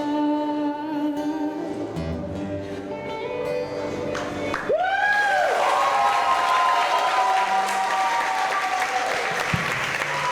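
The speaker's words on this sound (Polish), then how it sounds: "Brawa dla siostry Aliny." The last notes of a worship song at a praise concert fade out as the audience bursts into applause, a full room of clapping, with a little cheering, that stays steady and strong to the end.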